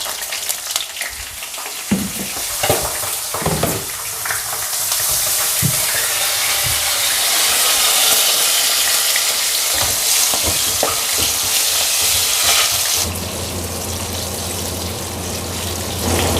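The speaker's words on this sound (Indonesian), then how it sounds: "Dan ini lanjut goreng bawang merah, bawang putih, cabai buat sambelnya." Loud, constant sizzling of shallots, garlic and chili frying in hot oil for Indonesian sambal, with intermittent stirring and scraping at first, then a shift to a steadier, softer hiss near the end.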